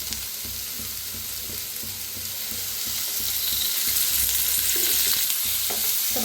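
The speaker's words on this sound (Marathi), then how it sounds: "ह्याच्यात थोडंसं तेल वतून फ्राय करून घेऊया।" Egg masala ingredients frying and roasting in oil in a pan, a constant close sizzle that grows slightly louder, with soft scraping stirs at a fairly regular pace and no speech.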